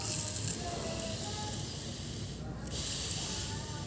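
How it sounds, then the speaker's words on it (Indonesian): A hand sprayer mists water mixed with Sunlight dish soap onto garden plants, giving a continuous broad hissing spray with a brief dip midway, close to the ear. "Kita tinggal campurin air dengan Sunlight ya, gitu. Kita tinggal semprot aja langsung."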